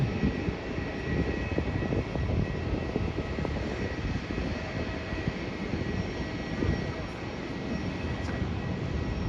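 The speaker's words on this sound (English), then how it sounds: "So I think all of the Virgin Australia planes are Boeing 737s" A Virgin Australia Boeing 737 approaching to land, its engines a steady, broad roar that fills the air evenly from start to finish with no breaks.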